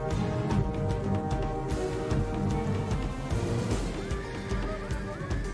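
Cavalry of horse skirmishers in a Rome II Total War battle, with horses whinnying and hooves clopping in a dense, continuous game mix of battle noise and music.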